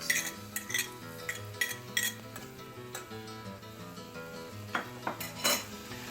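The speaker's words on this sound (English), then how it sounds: "I have a pan with coconut oil. I'm going to go ahead and saute it." Diced onion sautés in coconut oil in a pan, heard mostly as quiet clinks and scrapes of a utensil against the pan, with a faint sizzle beneath the irregular knocks.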